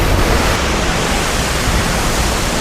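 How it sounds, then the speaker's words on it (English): A waterfall in Ubud, Bali roars with a dense, steady broadband rush of falling water, loud and close, unbroken for the whole stretch with no voices. "This is what you call a picture perfect waterfall."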